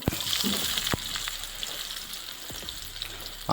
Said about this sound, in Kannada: ಇವಾಗ ಈರುಳ್ಳಿ ಹಾಕ್ತಿದ್ದಾಳೆ